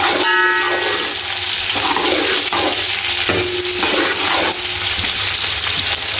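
Two large finely chopped onions browning in hot oil for chicken pulao sizzle in a loud, dense, continuous hiss, with occasional stirring scrapes.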